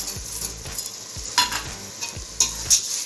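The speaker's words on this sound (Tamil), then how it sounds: "இப்போ தக்காளியை வதக்கிக்கோங்க" Tomatoes sizzle in a hot pan for mutton dalcha while a spoon stirs them, with a steady frying hiss and several scraping strokes close up, no talking.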